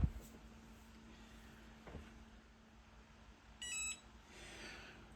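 A mug press gives a short electronic beep sequence when heated and ready, sounding briefly in a quiet room with a faint steady hum underneath.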